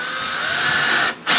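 A power drill whines steadily as it bores into a paracord jig, loud and close, pausing briefly before spinning up again at full speed.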